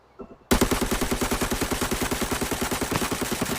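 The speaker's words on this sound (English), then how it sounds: "I'm gonna shoot right over here and see the recoil." AK-102 rifle with a 30-round magazine firing full-auto in the video game Arena Breakout: a long, loud, steady burst of about thirty rapid evenly spaced shots after a brief quiet lead-in, with no talking.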